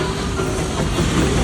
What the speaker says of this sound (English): So guys, train is here.